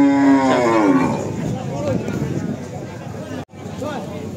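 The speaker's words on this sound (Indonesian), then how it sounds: "kita sambung ke sapi miliknya Pak E, kelas jumbo ya ini nih." Cattle moo loudly and close at a cattle market selling large sacrificial bulls, including Limousin, one long low bellow at the start, then lowing and crowd noise continue in the background.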